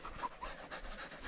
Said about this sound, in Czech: pustit psa